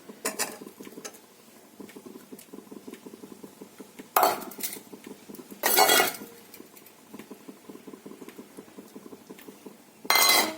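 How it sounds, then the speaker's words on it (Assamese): A metal spoon clinks and scrapes against a pan while stirring a paneer pudina mixture, a steady patter of small taps broken by a few louder, longer scraping bursts, with no one speaking. "এইখিনি ভালদৰে মিক্স কৰিম"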